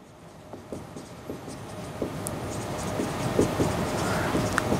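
Chalk or marker scratching across a board during a maths lesson, a run of short close strokes and taps with no talking.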